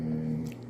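A dog lying beside a kitchen stove lets out a short, close, low droning moan that holds a steady pitch for under a second.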